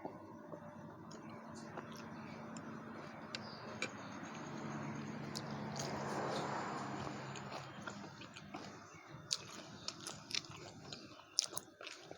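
Someone chews beef meatballs from a stewed beef noodle soup. The moist, close chewing is quiet and continuous, with scattered small crunchy clicks toward the end.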